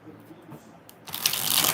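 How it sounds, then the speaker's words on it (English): Tarot cards being shuffled, a quick burst of riffling card noise rising after a few soft handling sounds, with a voice speaking underneath. "we're going to shuffle it 3 more times"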